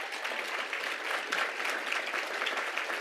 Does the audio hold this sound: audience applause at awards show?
yes